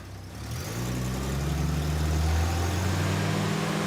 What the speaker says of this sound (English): Go ahead and rev it up.